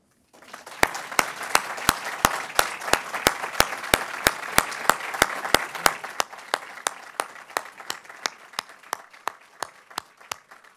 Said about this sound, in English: Please join me for a round of applause to honor Professor Cobb and Professor Rubens